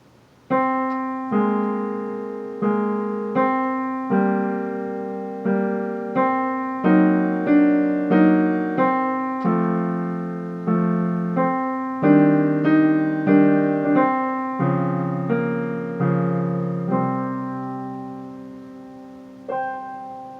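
A keyboard plays Khachaturian's Andantino, a gentle melody over chords, each note struck clearly and decaying, in a steady unhurried rhythm with no talking.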